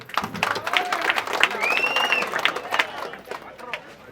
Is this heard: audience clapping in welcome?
yes